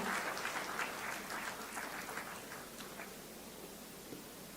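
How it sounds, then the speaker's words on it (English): Steady applause from a conference audience greeting the dignitaries in New Delhi, a dense, even patter of clapping that holds throughout without fading. "Can we have a huge round of applause for all our esteemed dignitaries?"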